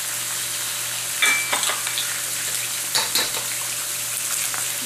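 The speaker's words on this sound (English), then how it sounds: "we're going to push the shrimp and the onions and the garlic per se to the side" Shrimp, onions and garlic for pineapple fried rice are pushed to the side of a hot pan, a loud, constant frying sizzle broken by several clustered scraping strokes of a utensil across the pan, close and without voices.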